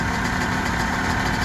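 A rebuilt 2005 Honda CR250R two-stroke dirt bike engine runs at a steady idle, loud, close and continuous, with a dense buzzing drone and no talking.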